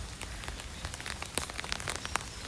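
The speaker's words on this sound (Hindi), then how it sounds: "बहुत तेज़ बारिश हो रही है, बहुत ज़्यादा" Heavy rain pours down on a university campus in Australia, a dense, steady hiss of close raindrops pattering on surfaces with no voices.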